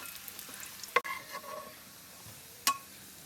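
Garlic frying in butter in a pan while being stirred, a quiet steady sizzle broken by two sharp clinks of a utensil against the pan.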